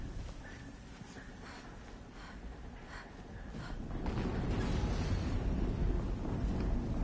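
An explosion in the video game Horizon Zero Dawn: a low rumbling blast that swells midway and holds as a heavy roar, with softer game effects before it.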